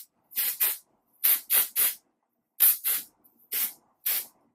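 Not Your Mother's texturizing dry shampoo sprayed into lifted hair in quick bursts: two short pairs of hisses, a triple, then another pair and two single blasts, each sharp and close with brief silences between.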